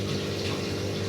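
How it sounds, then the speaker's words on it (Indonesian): Tap water runs steadily during washing, a loud, continuous gushing splash that stays constant from start to end. "Kalau membilas itu diusahakan ya pakai air yang mengalir seperti ini contohnya"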